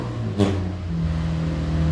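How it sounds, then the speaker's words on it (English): An unmuffled car roars past in a single brief, loud burst, then fades into a steady low rumble. "a car that was actually less expensive than mine just went past"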